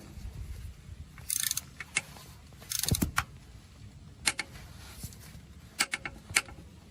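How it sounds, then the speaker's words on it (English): Alternator bracket bolts are tightened on a 2004 Infiniti G35, with short bursts of ratchet clicking and scattered metallic taps and clinks, close and fairly quiet, with no talking. "so tighten up these brackets"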